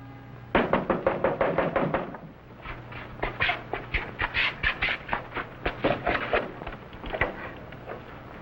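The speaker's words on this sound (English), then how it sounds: "That man knocking on the door." A man knocks on a door in a rapid series of sharp raps, a quick burst at first, a short pause, then a longer run of knocks, close and distinct, with no talking.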